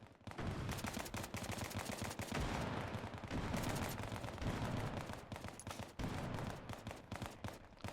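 Sustained suppressive gunfire in the military shooter Bellum: rapid, closely spaced automatic bursts crack continuously at loud, near range, broken by only brief dips, with no talk over them.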